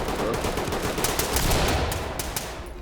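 Gunfire in the tactical shooter game Ready Or Not, a dense, rattling fusillade of shots over rumbling background, steady and fairly loud throughout with no talk.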